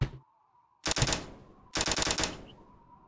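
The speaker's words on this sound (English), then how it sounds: "Changed guns. Tommy gun, please." A Tommy gun fires two sustained automatic bursts in a VR skeet shooting game, each lasting close to a second, loud and near, separated by a short quiet gap.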